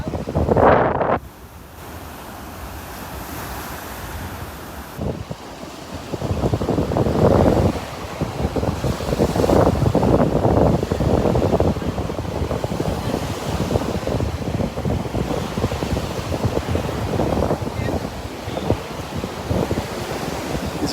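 Surf breaks and washes continuously along a beach in North Naples, Florida, a steady roar of waves with wind buffeting the microphone, loud and close throughout.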